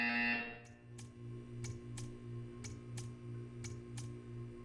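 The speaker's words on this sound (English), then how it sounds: "You will hear a buzzer." A sustained low electronic buzz from a buzzer in the video game Portal 2 drones steadily, with a series of sharp, evenly spaced clicks ticking over it about twice per second.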